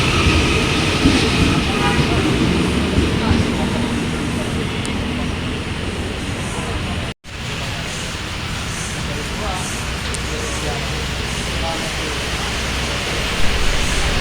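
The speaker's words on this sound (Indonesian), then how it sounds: "KRL-nya sudah melanjutkan perjalanannya kembali ya." An electric commuter train rumbles steadily along the tracks with a continuous roar and faint rattling, briefly cut by a momentary dropout midway.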